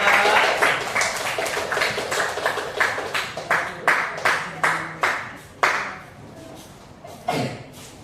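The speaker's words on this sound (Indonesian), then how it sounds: "Tepuk tangan untuk kelompok dua." A small class claps for a student group during a primary-school practice teaching lesson: sparse, uneven hand claps, each sharp and separate, slowing and thinning out before a final clap near the end.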